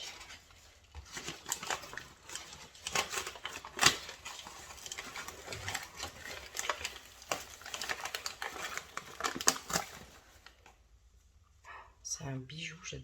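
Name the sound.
dog claws clicking on wooden parquet floor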